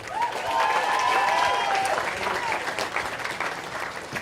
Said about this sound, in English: Everybody, please give a round of applause for our MC this evening